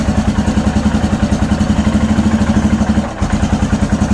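A carburetted Royal Enfield Himalayan single idles at about 1500 rpm, thumping in a fast, even, close pulse with a brief dip and stumble near the end before settling back into rhythm, with no talking.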